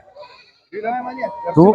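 Goats bleat at a livestock market where large billy goats are sold, a short quivering cry rising loud and near at the end, with people talking over the scene.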